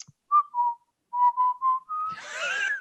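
A voice whistling a short tune, imitating another driver whistling in his car at a traffic light: a few clear sustained notes, then a breathy rush, close and alone.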